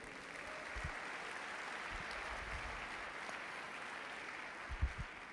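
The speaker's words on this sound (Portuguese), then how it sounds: "Dá um aplauso aí ao Senhor." Faint, distant applause from a church congregation spreads as a soft, even wash of clapping, with a few low thumps near the end.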